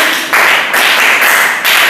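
Pupils in a primary school classroom clap for a classmate in short rhythmic bursts, about four quick pulses of group clapping, close and fairly loud.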